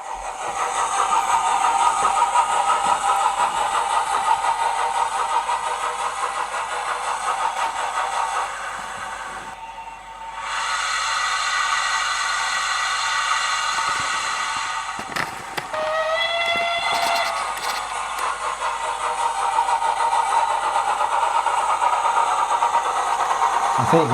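Model SR Merchant Navy 'Channel Packet' steam locomotive running in steam, a steady loud hissing and mechanical hum that dips briefly partway through, with a few squeaky tonal sounds later on.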